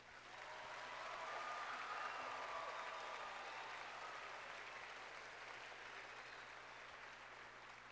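A large crowd at the VEX robotics World Championships opening ceremony applauds in a broad hall, a sustained, even wash of clapping that swells and then holds steady, heard at a distance and fairly faint.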